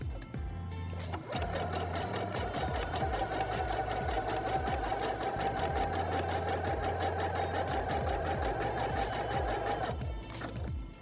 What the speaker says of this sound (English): I could make those stitches wider using the width control